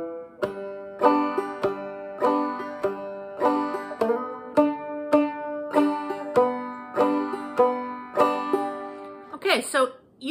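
Plucked clawhammer banjo notes from Will The Circle Be Unbroken in a steady bouncing rhythm, a repeating strummed pattern up close, ending with a quick scrape of strings.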